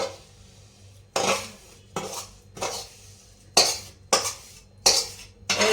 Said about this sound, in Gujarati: હવે આપણા શેકેલો લોટ અડદનો અંદર નાખી દઈશું.